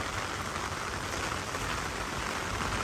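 Steady rain falls in Korea, a dense, even hiss of drops hitting surfaces that continues unbroken and fairly close throughout.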